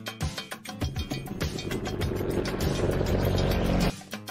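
A cartoon sound effect of a big engine inside a flying pancake, a steady revving motor drone that swells and holds for several seconds before cutting off abruptly near the end.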